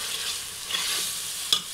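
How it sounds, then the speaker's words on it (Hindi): Mutton ojri curry fries in a pan with a close, continuous sizzle and stir, broken by one bright clink of a utensil near the end. "मैं ऐसे भून लूँ ताकि आपको दिखाई देता रहे"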